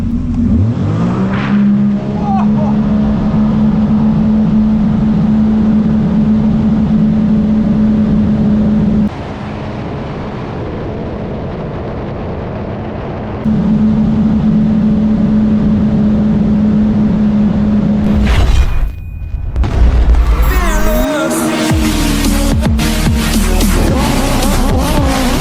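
A 2024 Sea-Doo RXP-X 325 personal watercraft makes a full-throttle run, its engine holding a loud, sustained high whine with a brief drop in pitch midway, then splashing water and wind rush near the end.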